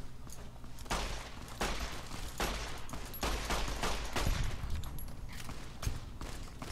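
Gunfire in the video game Fallout New Vegas: a rapid string of loud, sharp shots fired in quick irregular bursts, with a few heavier booming blasts mixed in, continuing throughout.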